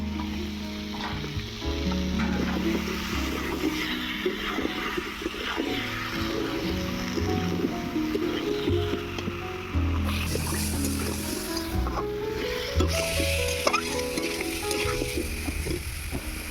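Potatoes and kohlrabi sizzle steadily in a hot pan, with a continuous loud frying hiss and occasional stirring scrapes throughout.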